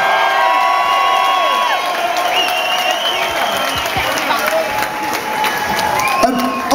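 An audience applauds and cheers for a DJ at the Tidy Weekender Reunion, a loud continuous wash of clapping and whoops under sustained music tones, with a voice speaking over it.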